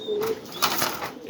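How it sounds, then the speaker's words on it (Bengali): Pairs of pigeons coo in their pens at a pigeon farm in Mirpur 13. Steady low cooing carries throughout, with a brief flutter of sharper noise in the middle and no clear talk. "এখানে এক জোড়া কবুতর আছে, দেখেন আরেক জোড়া কবুতর"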